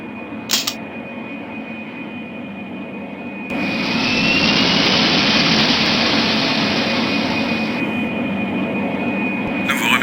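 Jet airliner engines spooling up for takeoff in the Pink Panther video game, a steady broadband roar that swells and holds loud over a constant tone, with a brief click near the start.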